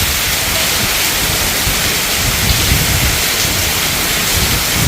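A village storm of wind and heavy rain makes a dense, unbroken hiss and roar, loud and steady for the whole stretch, with no voices.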